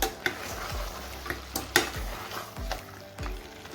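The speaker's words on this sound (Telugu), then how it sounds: "నూనెలో ఇట్లానే చెరవ మగ్గిన తర్వాత కొద్దిగా కుతకుత అని చప్పుడు వస్తుంది కదా, ఇలాగ వచ్చినట్టు" Goat trotter curry cooks in oil in a pot, a low bubbling and soft sizzle with a spoon knocking and scraping against the pot in several distinct strokes, close and moderately quiet.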